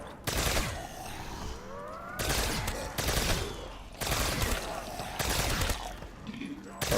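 Gunfire in Call of Duty Zombie Chronicles on the Nacht der Untoten map comes in loud, close bursts of rapid automatic shots, separated by brief pauses, with game noise filling the gaps.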